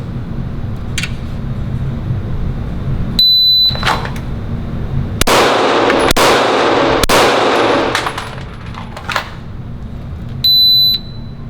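Three pistol rounds fired two-handed on an indoor combat qualification range, sharp loud reports in quick succession, with a timer beep before and after the string.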